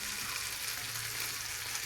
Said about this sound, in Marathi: आता आता फक्त दोनच मिनटं उकळून द्यायची भाजी